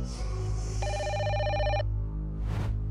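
A telephone rings with a repeated electronic trill for about a second over a steady low hum, followed by a short whooshing sound.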